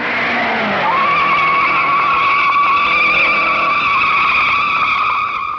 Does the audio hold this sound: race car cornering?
yes